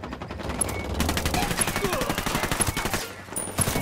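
Gunfire in the tactical shooter Ghost Recon Wildlands during a co-op firefight with Santa Blanca cartel forces: rapid automatic bursts rattle continuously for about three seconds, loud and close, followed by a couple of scattered shots.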